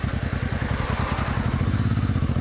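A motorcycle rolls through a resort town, its engine a steady, close, rhythmic throb with a pulsing low beat throughout and no voices.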